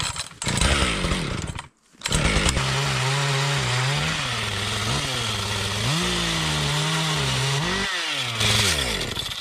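A chainsaw roars close by outdoors in winter, its engine pitch rising and falling as it bogs into firewood, after a brief pause near the start; the chain then breaks.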